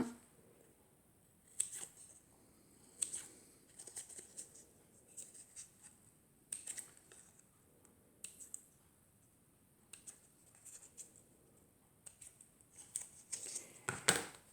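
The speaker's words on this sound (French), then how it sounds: "on coupe pour faire la languette" Scissors cut a sheet of craft foam into a tab for a bow, giving a series of sharp, close snips spread irregularly over the stretch, with quiet pauses between cuts and no talk.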